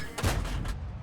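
A tank gun shot in a video game striking the side of a Covenanter tank, a single short muffled boom with a brief rumbling tail.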